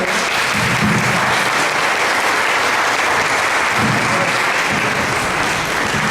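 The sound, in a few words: audience applause for the speaker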